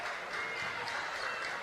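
Crowd noise in a gym at a girls high school basketball game, a steady wash of cheering and applause-like murmur, moderately loud and continuous for a brief stretch.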